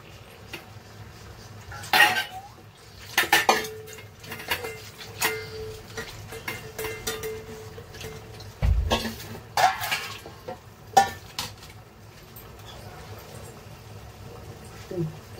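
Metal pot clinks and scrapes as a masala-coated pot is rinsed with water and poured into a pan of chicken curry, a few sharp knocks over low background noise, with voices talking at times.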